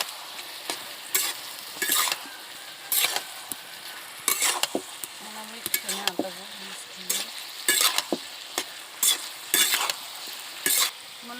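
Fish curry with small fried fish is stirred in a pan over heat, with a steady soft sizzle under repeated scraping, clattering strokes of a spoon against the pan, near and alone.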